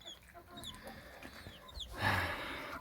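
Soft clucking and chirping of chickens and chicks nearby, with a brief rustling burst toward the end.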